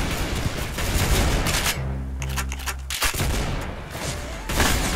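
Rapid bursts of automatic gunfire in the Roblox shooter Arsenal, loud and close, with a steady low electronic tone beneath the shots partway through and dense overlapping game sounds throughout.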